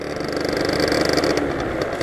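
A scooter engine hums steadily and loud throughout, its pitch lifting slightly as the rider opens the throttle, with no pauses or talk.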